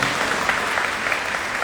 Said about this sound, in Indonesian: Tepuk tangan, amin.